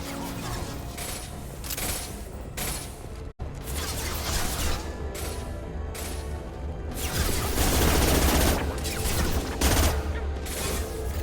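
Gunfire in the video game Mass Effect 2: a loud, sustained fusillade of rapid shots and crashing impacts, with a brief cut near the start and then continuous heavy firing that builds toward the end, with no voices.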